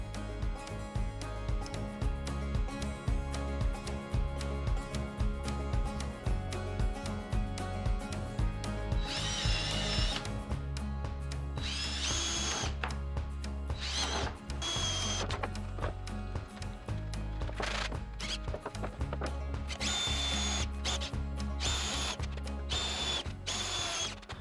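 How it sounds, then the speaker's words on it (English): A power drill bores binding insert holes through a wooden snowboard core, with steady motor whine and repeated bursts of drilling throughout, heard close and fairly loud with no talk. "used a template I found online by The Good Roads to drill them out"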